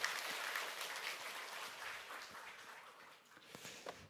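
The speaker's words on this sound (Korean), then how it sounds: "우리 박수 한번 쳐주시죠" Audience applause in a church lecture hall during a Bible lecture series, broad steady clapping from a crowd that fades slightly toward the end, fairly faint and distant.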